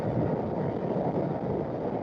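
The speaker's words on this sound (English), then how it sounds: "Oh, that's windy." Wind rushes and buffets hard against the microphone on a moving motorcycle, a continuous low roar, with nothing else heard.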